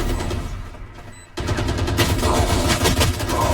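Rapid automatic gunfire in a video game, a dense rattling burst that cuts out briefly, then resumes louder and keeps going with quick repeated shots.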